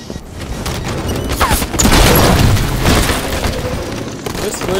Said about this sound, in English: Those splinter grenades are such a devastating part of this map.